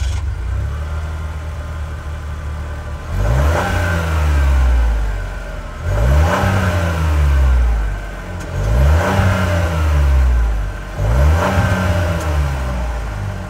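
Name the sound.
1.3 liter turbo three-cylinder engine revving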